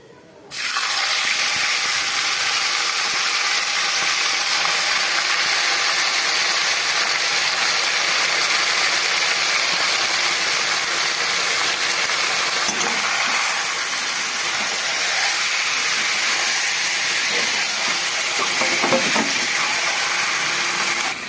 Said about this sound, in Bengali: একটু ভেজে নেব যতক্ষণ না কালারটা চেঞ্জ হচ্ছে ততক্ষণ মাংসটা ভাজবো